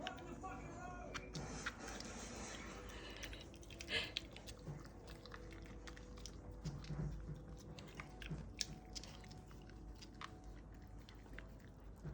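Food being chewed close by, with soft crunching and biting bursts spread across the stretch while a quiet voice talks briefly.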